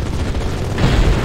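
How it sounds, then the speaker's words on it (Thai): A pirate ship cannon fires and something explodes in the Mini World video game, a loud, dense booming rumble that swells near the end of the short burst. "นี่คือแบบเราใช้ปืนใหญ่ยิงนะครับ"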